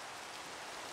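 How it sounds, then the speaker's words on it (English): Rain falls in Minecraft as a steady, even hiss of moderate loudness throughout the short moment, with no talk over it. "It's raining out."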